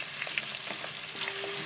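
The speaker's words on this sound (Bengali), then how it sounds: "মাছটা হালকা লাল করে ভেজে নেব।" Fish frying in oil for an aar fish curry, with a steady low crackling sizzle and small spits and pops scattered throughout at moderate loudness.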